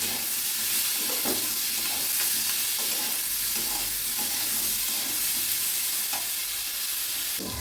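Steady loud sizzling of mola fish frying with salt and turmeric in a pan, with irregular stirring scrapes over the continuous hiss throughout.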